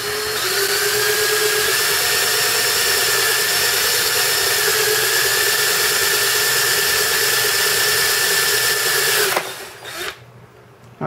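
A power drill with a 5/16 bit runs loud and steady for several seconds, its whine holding pitch, then winds down abruptly near the end.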